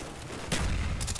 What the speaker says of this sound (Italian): Esplosione ogni 5 secondi